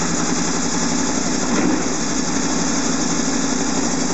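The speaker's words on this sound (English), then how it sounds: "I'll get the bike started" A warm Honda VFR800 motorcycle engine runs at a steady, even idle, close and continuous throughout with no breaks.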